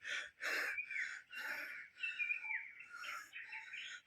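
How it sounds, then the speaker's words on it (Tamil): Unidentified wild birds call on a Kolli Hills trek, a series of loud, close, rasping chirps repeated in quick bursts with brief gaps between them. "பேர் தெரியாத பறவைகள்லாம் கத்துது."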